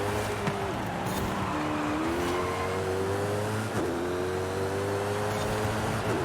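Engine of a Jaguar XE-S racing in Forza Horizon 5, a loud, steady sustained drone with rising and falling pitch as it shifts and accelerates, plus a brief tire squeal, running continuously with no talk.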